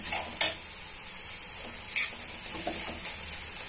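Curry leaves sizzle in hot oil with a steady crackling hiss while a spoon stirs, its scrapes against the pan popping out a few times, close and alone.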